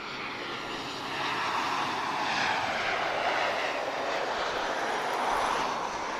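A Transavia France airliner arriving at Lisbon airport, its broad engine roar steady and fairly near, swelling slightly after the first second and holding loud throughout.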